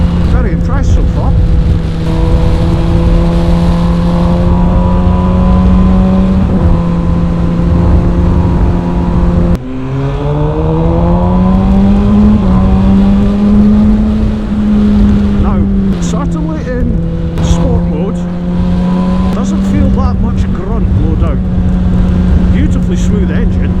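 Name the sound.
MV Agusta Brutale 1000 RR 2020 motorcycle engine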